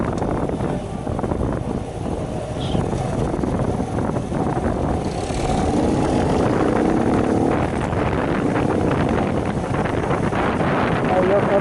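Heavy wind buffets a microphone while someone walks outdoors on the way home from work, a constant low roar and rumble that persists throughout, with a person talking underneath it.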